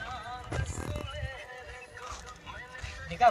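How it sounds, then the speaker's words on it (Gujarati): Horses arriving on a road during a group outing, hooves clip-clopping in an irregular patter beneath lively chatter and voices of several people nearby. "અહીંયા ઘોડી આવી ગયા છે"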